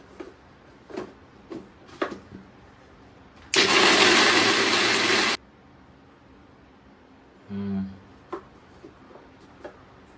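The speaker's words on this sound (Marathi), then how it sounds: "तर मग मिक्सरला लावून घेऊयात" A kitchen mixer grinder runs with salt and water inside in a loud, steady whir for about two seconds, followed by a shorter burst later, with clicks, handling noises and a voice in between.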